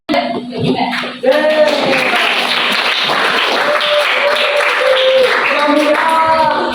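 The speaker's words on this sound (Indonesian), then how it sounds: "Oke, beri tepuk tangan." A class of secondary school students at an Islamic school claps hands together in a burst of applause that starts after a brief pause and continues steadily, with children's voices and tonal chatter mixed into the clapping.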